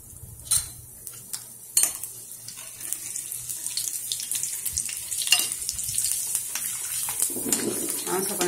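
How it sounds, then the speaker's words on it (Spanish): Garlic cloves sizzle in hot oil with sesame seeds on a small stove, a steady close crackling hiss with occasional sharper pops, with a person speaking over it. "le voy a poner los ajos que se doran un poquito"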